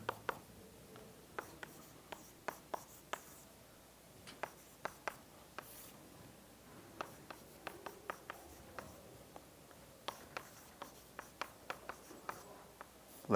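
Chalk or marker writes out a math solution on a board, tapping and scratching in irregular sharp strokes with quiet pauses between them, close and clear with no talking.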